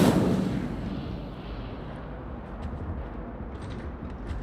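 A fire spell cast in the Hogwarts Legacy video game erupts with a loud whooshing burst that fades into a rumbling roar, heavy and close, with no talk over it.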